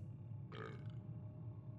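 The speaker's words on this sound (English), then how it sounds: "That was a burp again." A character in Vampyr lets out a single short burp, a brief low belch standing out over a steady hum of background ambience.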